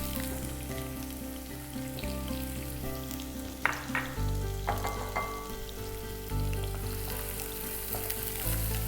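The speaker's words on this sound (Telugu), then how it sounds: "ఉల్లిపాయ ముక్కలు ఫ్రై అవుతుంటాయి." Onion pieces dropped into hot oil for a chicken curry fry steadily, a close, continuous sizzle with a few brief crackling bursts and no talk.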